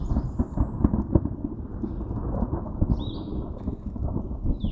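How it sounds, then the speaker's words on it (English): Thunder rumbles through a mountain storm on the Catskills' Escarpment Trail, low rolling booms with sharper cracks near the start, fairly close and loud, no voices, with faint bird chirps above. "Lots of thunder, saw lots of lightning, no rain."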